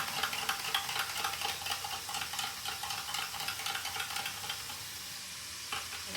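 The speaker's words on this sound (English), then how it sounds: "We're going to go ahead and stir that up." A spoon stirs Dijon mustard inside a jar, giving a rapid, steady run of small clicking scrapes against the glass for several seconds before easing off, close and fairly quiet with no speech.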